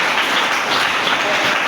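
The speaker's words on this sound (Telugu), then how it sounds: "చప్పట్లు కొడతాను గట్టిగా" A church congregation breaks into loud, dense applause, a continuous roar of many hands clapping close up, with no speech over it.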